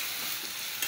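Manathakkali spinach and grated coconut are sautéed in a pan, giving a steady close sizzle and stirring scrape throughout with no voices.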